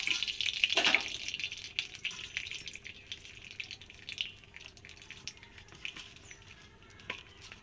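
Potatoes frying in oil left over from frying fish, a faint crackling sizzle with a brief louder burst near the start, then quieter scattered pops and spits.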